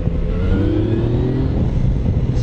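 A Yamaha Tracer 900 motorcycle accelerates with a strong, low engine roar that rises steadily in pitch, loud and close, with no voices.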